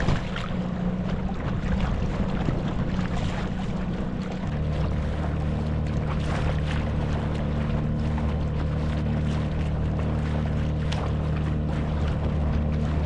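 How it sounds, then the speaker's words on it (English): A boat motor runs steadily on a lake in winter, a continuous droning hum that shifts to a lower, throatier pitch partway through, with wind and water noise around it. "Okay, I got the motor going."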